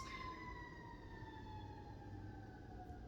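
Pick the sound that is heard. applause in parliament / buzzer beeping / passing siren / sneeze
passing siren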